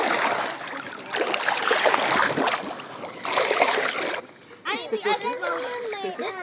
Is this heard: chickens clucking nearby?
no